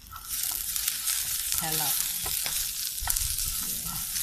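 Pork cracklings fry in hot oil with a dense, close crackling sizzle that runs throughout, with a brief spoken word heard over it.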